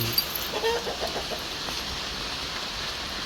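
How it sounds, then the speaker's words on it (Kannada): A rooster clucks briefly and faintly in a rainy-season home garden in Udupi, heard at a distance over a steady hiss of rain. "ಇದು ನಮ್ಮ ಹುಂಜ"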